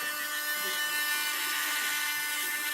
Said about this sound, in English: I use a Dremel diamond drill bit I put mine on a sponge